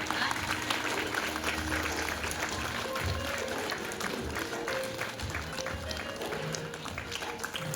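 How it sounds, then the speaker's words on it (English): Audience applauds for a group of girls at a celebration, a steady wash of clapping with crowd noise and voices mixed in throughout. "Girls, give them a big round of applause."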